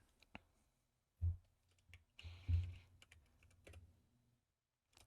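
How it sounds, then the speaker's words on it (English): Someone types on a computer keyboard in short bursts of close, soft clicking keystrokes, with a few louder taps and pauses between, in a quiet room, with no talking. "I'm just gonna type it in the chat."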